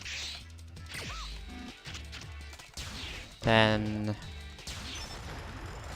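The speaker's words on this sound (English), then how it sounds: "Now we're going to change to the Axle and use the explosion." Explosion attack by the character Axl in the video game Mega Man X7, a burst of blasts and crashes over game music, with someone talking throughout.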